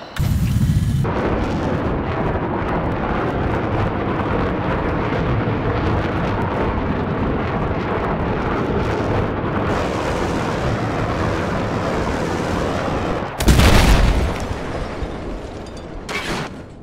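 Missile explosions in the Battlefield 4 video game, China Rising on Dragon Pass: a sustained roaring rumble of blasts and fire, loud and continuous, with a sharper burst near the end before fading.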